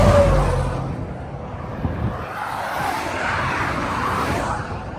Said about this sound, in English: Cars are flying.